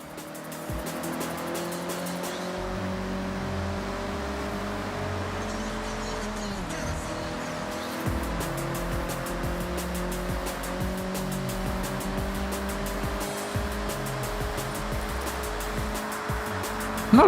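A car revs at full throttle in the racing game Forza Horizon 6, a loud sustained engine drone with rising and shifting pitch through gear changes, steady and close for the whole stretch.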